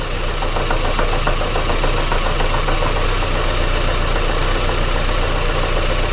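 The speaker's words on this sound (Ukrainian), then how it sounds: "Будемо відключати форсунку кожного циліндра і дивитись на реакцію двигуна." A 2005 Daewoo Lanos engine idles loudly with an uneven, knocking misfire rhythm as a fuel injector is cut off, running rough and steady throughout with no talking.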